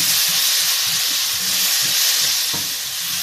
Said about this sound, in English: You have the spicy garlic and coconut. Give it all on.